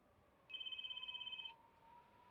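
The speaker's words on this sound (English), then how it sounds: "I hear the ringing." A phone in the horror video game Spirit Hunter: NG rings with one short burst of rapid, trilling electronic pulses, moderately loud over a quiet background hum, then stops.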